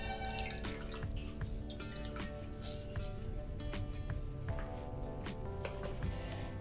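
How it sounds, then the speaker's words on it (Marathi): Coconut milk for sol kadhi is strained through a cloth, giving close, steady trickling and dripping with small splashes into a bowl, and no voices. "ते परत आपण गाळून घेणार आहोत त्यातलं दूध"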